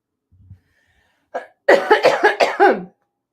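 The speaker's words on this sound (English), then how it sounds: "It made me cough." A soft breath, then a close burst of several harsh, rapid coughs in quick succession.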